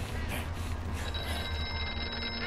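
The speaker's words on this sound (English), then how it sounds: "Oh, phone." A telephone rings in the horror game Here They Lie, a bright trilling bell repeating over a low, droning, uneasy ambience.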